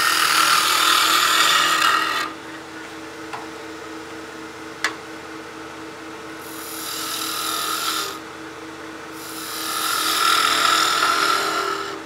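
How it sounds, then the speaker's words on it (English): A skew chisel takes slicing cuts on a wood lathe while a birdhouse ornament is being turned: a loud raspy scraping hiss in two or three bursts, separated by quieter spinning hum. "We'll use the skew and give us a slicing cut with the long point down."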